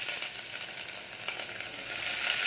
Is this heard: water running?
no